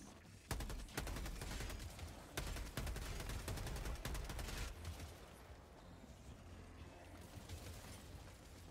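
Video game gunfire, dense rapid bursts of shots in the first half that thin out and stop as the magazine runs dry, leaving a low rumbling background.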